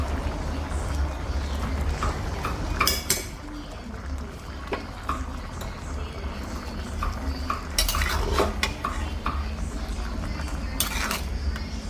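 A spoon stirs ginataan kalabasa with sitaw and tinapa in a pot, with scraping and clinking against the metal over a low simmer, while people talk nearby.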